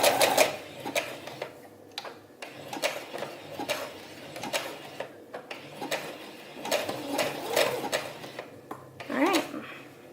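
Domestic sewing machine running short bursts of back stitches on thrifted shirt fabric, quiet and close, with stop-start whirring pulses and light mechanical clicks between runs.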